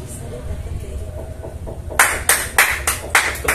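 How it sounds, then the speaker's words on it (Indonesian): A few people clapping close by, about half a dozen sharp, evenly spaced claps that start abruptly after a low background murmur. "Tepuk tangan dong"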